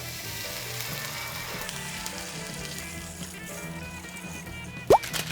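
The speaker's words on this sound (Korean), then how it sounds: "채소와 고기가 잘 볶아졌으면 라면 양에 맞게 물을 넣어주세요" Stir-fried vegetables and meat for ramen hiss in a hot pan as water goes in, a steady close sizzle that runs throughout, with a brief sharp splash near the end.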